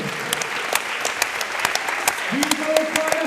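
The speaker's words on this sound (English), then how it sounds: "please have a big round of applause for both of our boxers." Audience applause for two boxers at a boxing event, sustained steady clapping throughout with a voice speaking over it near the end.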